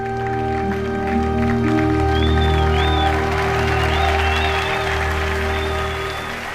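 A church congregation applauds in a sustained, dense patter of clapping that swells and then tapers off, with organ-like sustained tones beneath.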